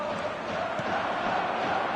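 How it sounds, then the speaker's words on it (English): A packed stadium crowd roars in a football video game, a steady, dense wash of distant cheering and chanting that holds at a constant level throughout. "The stadium is full of noise and energy."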